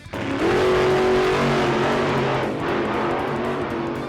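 Monster trucks race in an event, a loud, close engine roar that rises sharply at the start and holds a heavy, sustained revving drone before easing slightly.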